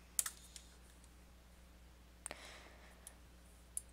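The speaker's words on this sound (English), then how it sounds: "do the Windows key and R at the same time, and then type in control" Quiet keystrokes on a Windows computer keyboard, a few sparse clicks and a short key combination spread over a few seconds against a low background hum.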